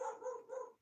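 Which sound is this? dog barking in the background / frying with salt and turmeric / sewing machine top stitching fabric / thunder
dog barking in the background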